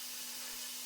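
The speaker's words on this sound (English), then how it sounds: "So this is still done with the flap sanding" An abrasive flap sanding wheel works scrap mahogany, giving a steady, dense whirring hiss with a constant motor hum underneath, loud and unbroken for a brief moment.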